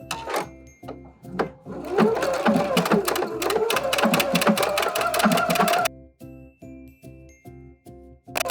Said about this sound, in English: The blind hem stitch is going to be stitching on the hem tape